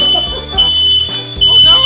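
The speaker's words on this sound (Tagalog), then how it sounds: "Nag-alarm na." A smoke alarm shrills with a steady high-pitched tone in repeated pulses while galunggong fish fries in a home kitchen, loud and close, with speech and sizzling underneath.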